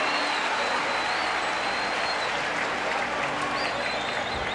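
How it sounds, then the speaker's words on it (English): A baseball stadium crowd cheers and roars during a 1983 Pirates broadcast of the Dodgers against the Phillies, a dense, continuous wash of noise at steady volume with no voices standing out. "Listen to that crowd"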